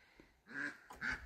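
Two quick nasal quacks from farm ducks, close and fairly quiet, one following the other within a second.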